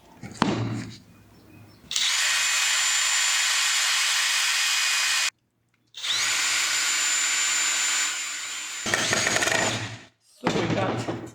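Power drill driving screws into wood for a craft build: loud, sustained whirring runs of several seconds each, broken by short pauses and brief bursts, with a voice heard faintly between them.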